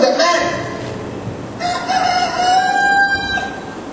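A rooster crows in a church Good Friday drama, the long rising call standing out loud and near after a brief earlier cluck-like note, with faint background murmur.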